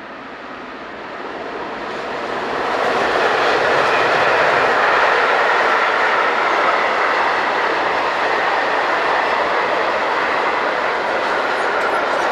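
Locomotive 139554 hauls a train from Dresden past the listener, a broad rushing roar of wheels and wagons swelling within a few seconds and holding steady and loud, with faint rail clatter.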